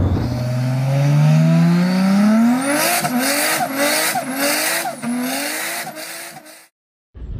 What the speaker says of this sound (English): It's basically a Peugeot 205 GTI with an MI16 engine in it.